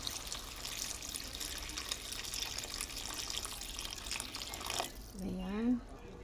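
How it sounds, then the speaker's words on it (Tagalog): Hot water pours into a cooking pot of meat for a Bisaya nilapad dish, a soft steady trickle under kitchen background noise, ending in a brief rising splash as the pot fills. "lalagyan na natin siya ng tubig na mainit para lumambot yung karne natin"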